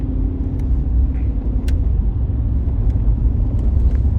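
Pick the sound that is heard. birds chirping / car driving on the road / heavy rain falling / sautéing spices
car driving on the road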